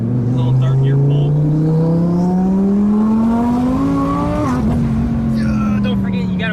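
A 1200-horsepower twin-turbo Audi R8 pulls hard in third gear, its engine note climbing steadily and loud from inside the car before a brief break near the end, with talk over it.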